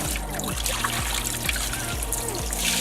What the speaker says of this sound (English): You want to pour all the water directly onto the plate.